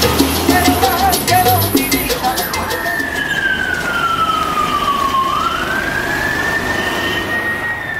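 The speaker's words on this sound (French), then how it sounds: "les sirènes retentissent une fois par semaine, en fin de journée, annonçant la fumigation de ces vilains insectes" A loud wailing siren sweeps down and back up in pitch, announcing the weekly evening mosquito fumigation in a Cuban street, heard over steady traffic and street noise.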